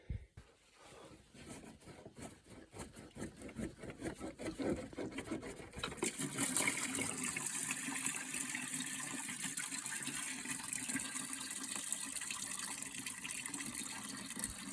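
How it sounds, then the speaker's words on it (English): Coolant drains from a Volvo 940 radiator into a bucket, starting as an irregular trickle and building to a steady pattering, splashing stream that keeps running at moderate volume. "I'm gonna have to empty it of coolant"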